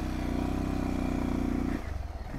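A motorcycle engine runs on a rough off-road trail, holding a loud steady drone before dropping to a lower, pulsing idle near the end.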